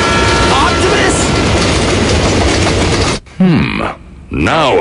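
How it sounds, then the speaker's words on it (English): Train rumbles past in an animated Transformers Armada scene, a loud continuous clatter for about three seconds that cuts off abruptly, followed by brief tonal effects and a voice. "How long is this train anyway?"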